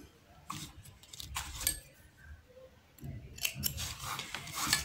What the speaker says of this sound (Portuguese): Vamos cortar.